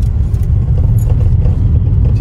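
A car driven by Anjali rumbles steadily with deep, continuous engine and road noise, loud and close throughout, with no voices over it.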